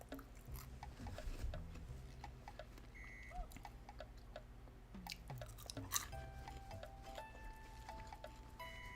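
Someone chews a crunchy puffed rice snack, with faint, irregular crunching and munching bites up close, quiet against a low room hum and a few scattered soft beeps.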